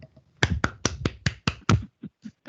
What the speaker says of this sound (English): Did you hear my clapping?